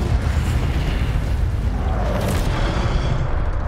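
An Incendio fire spell blasts in Hogwarts Legacy, a loud, dense roaring burst that fills the moment and stays sustained and continuous with no pauses or speech.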